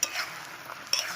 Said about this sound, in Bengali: এই যে গাগা করে একেবারে উনুন জ্বলছে